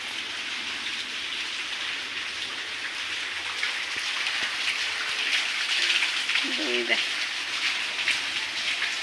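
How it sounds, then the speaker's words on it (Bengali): Sudden rain pours down steadily, a constant broadband hiss of drops and running water from a rooftop spout, with a brief voice briefly heard near the middle. "এই যে দেখেন ও মা বৃষ্টি যাই নামছে"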